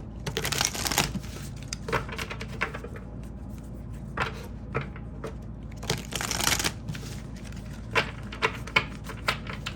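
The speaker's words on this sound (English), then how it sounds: "These cards are sticking. They're kind of hard to shuffle here." Sticky tarot cards are shuffled in repeated bursts of riffling and slapping, close and fairly quiet, with brief pauses between shuffles.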